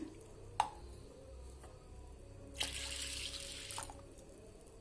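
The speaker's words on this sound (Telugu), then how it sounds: "2-3 టైమ్స్ వాష్ చేసుకున్న తర్వాత ఇప్పుడు ఇందులో వాటర్ పోసుకుందాం." Water splashing and trickling into a bowl of washed urad dal in a couple of short bursts, with a faint clunk at the start, close and quiet.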